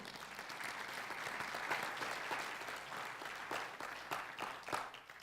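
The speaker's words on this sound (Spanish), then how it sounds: "denle un aplauso al Señor" A church congregation applauds during a sermon, a dense, continuous wash of clapping at moderate distance with no voices standing out.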